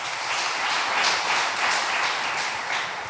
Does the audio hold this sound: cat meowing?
no